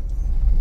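A 2015 Ford Edge engine with a check engine light and a hesitating idle gives a brief, steady low rumble, close and moderately loud, with no other sound over it.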